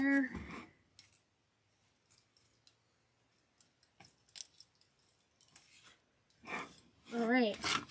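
Scissors snip during a gingerbread coffee cup floral arrangement, with a few quiet close cuts and light rustles between stretches of near silence, and a voice speaking at the start and end.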